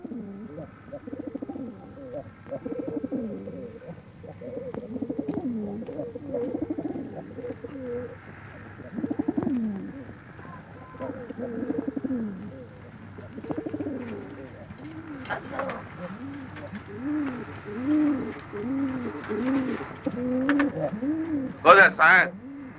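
Pigeons coo repeatedly in soft rolling phrases throughout, with speech running over them and a few brighter sounds near the end.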